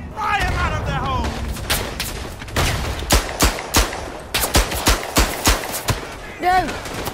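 Gunfire rings out in the Verdun video game, a First World War shooter: a series of sharp rifle shots and bursts, several in quick succession, with voices talking over and between them.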